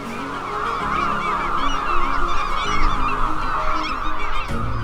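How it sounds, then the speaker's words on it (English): A dense chorus of gulls calls continuously, many overlapping cries at once, loud and close. "Seagulls are associated with the seaside."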